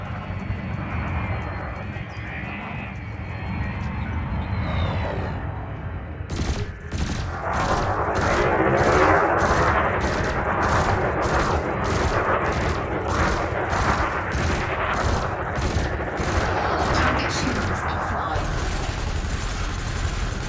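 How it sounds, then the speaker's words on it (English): Burst laser fire at a spacecraft in the video game Elite Dangerous, a rapid regular string of sharp pulsing shots beginning after a few seconds of engine hum and continuing steadily, with faint speech in places. "Helpfully, your burst laser is a thermal weapon, which excels at stripping away a target's shields."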